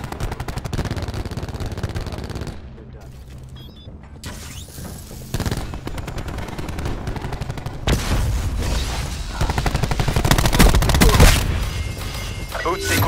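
Gunfire in the Call of Duty: Black Ops 4 video game as a robot comes under fire: dense, loud bursts of shots and booms over a continuous battle din, with a short quieter gap early on.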